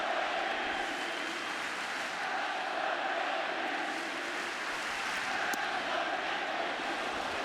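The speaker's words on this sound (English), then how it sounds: "And a "Let's Go Yankees" cheer." A stadium crowd at the 2008 MLB All-Star Game at Yankee Stadium chants "Let's Go Yankees", heard as a continuous, broad, distant roar with no clear rhythm standing out.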